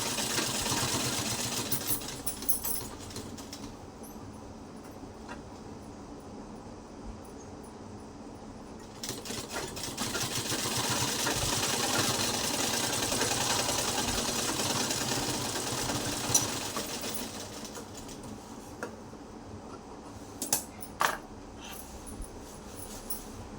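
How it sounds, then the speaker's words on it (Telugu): A sewing machine stitches a strap onto net fabric, its fast mechanical whirring running steadily at close range with brief pauses and a few clicks between passes. "ఇలా కుట్టు వేసుకుంటున్నాం"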